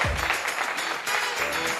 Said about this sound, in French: un torrent d'applaudissements pour Rachel